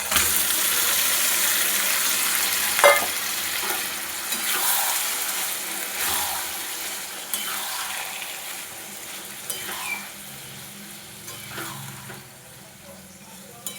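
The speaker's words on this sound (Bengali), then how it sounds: "এবার এর মধ্যে লাউ তরকারিটা দিয়ে দেবো।" Bottle gourd frying in a pan with softened onion and garlic, giving a steady close sizzle with stirring scrapes and bursts of hiss, while a voice talks throughout.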